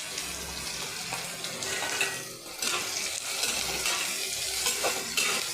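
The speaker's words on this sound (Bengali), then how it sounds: "পেঁয়াজটা একটু লাল লাল করে ভেজে নেব" Chopped onions frying in a pan with whole cumin, a little sugar and bay leaf for a Bengali cauliflower dish, a steady close sizzle with stirring scrapes throughout.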